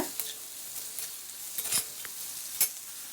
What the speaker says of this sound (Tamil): நல்லா அந்த வெங்காயத்தோட கலர் மாறுற வரைக்கும் நல்லா வதக்கிக்கோங்க